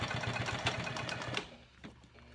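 A sewing machine stitches a tote bag seam through several fabric layers, a fast rattling whir for about a second and a half that then stops, leaving faint handling noises.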